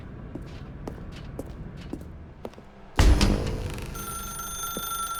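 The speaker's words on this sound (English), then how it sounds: "Now pick up the phone." A telephone rings in The Stanley Parable video game, starting abruptly partway through with a loud bright tone that holds steady over quiet footsteps and room ambience.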